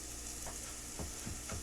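Chopped vegetables sweat with salt in a skillet, a steady close sizzle throughout with a few soft scraping strokes of a utensil stirring near the end.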